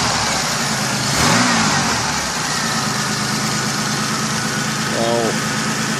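A 1996 Buick Century engine idling steadily, loud and close, with a constant low rumble. Someone talks over it at two points.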